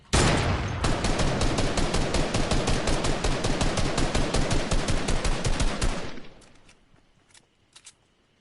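Loud, rapid automatic gunfire from the video game Fortnite rattles in an unbroken burst for about six seconds, then cuts off, leaving a few faint taps.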